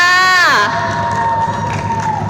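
A packed crowd of political party supporters at a live rally cheers and shouts loudly and continuously, sustained and close, following a sweeping tone at the start.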